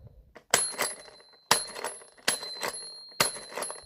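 A bell inside a Thomas the Tank Engine toy train set rings four times at roughly one-second intervals. Each strike is bright and close, and its metallic tone decays quickly with no voices.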